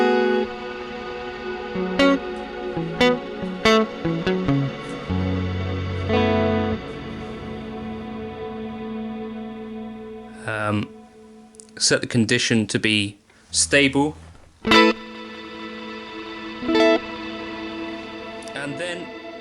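Spacey electric guitar through a Line 6 DL4 set to a Euclidean delay with particle reverb, notes repeating and smearing into a long ambient wash, with bursts of brighter chords, a voice talking between phrases.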